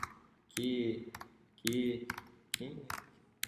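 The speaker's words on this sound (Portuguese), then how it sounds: "tô só digitando aqui" Computer keyboard typing while entering numbers into an Excel spreadsheet: sharp, scattered key clicks in short bursts, heard close beneath someone speaking.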